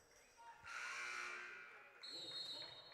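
At a women's basketball game, an electronic buzzer sounds twice in a gym: a long blast, a short gap, then a second tone, over faint crowd noise and commentary.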